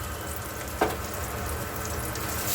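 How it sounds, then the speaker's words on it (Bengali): Potatoes fry in a covered pan with a soft, even sizzle that stays steady throughout, broken once early by a brief clink. "আলুগুলোকে একটু ভেজে দিচ্ছি। ঠিক আছে, এখানে দিয়ে দিলাম, একটু ঢাকা চাপা দিয়ে দিলাম।"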